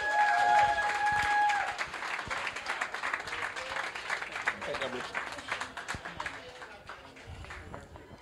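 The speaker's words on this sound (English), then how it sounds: "Give Tatiana Williams another thunderous round of applause." An awards-ceremony audience breaks into loud, dense applause that gradually thins and fades over several seconds, with a voice speaking over the clapping near the start.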